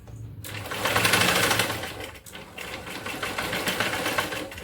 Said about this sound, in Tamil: கீழே வந்து ஸ்டிச் பண்ணிவிட்டு பேக் ஸ்டிச் போட்டு இதை கட் பண்ணிடுங்க